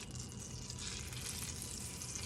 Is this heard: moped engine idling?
no